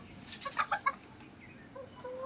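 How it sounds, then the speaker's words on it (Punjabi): A young rooster on a farm, just taken out of its coop, gives a quick run of sharp clucks up close, then goes quieter with a few softer calls. "ਕੁੱਕੜ ਲੈ ਕੇ ਆਓ ਖੁੱਡੇ ਚੋਂ"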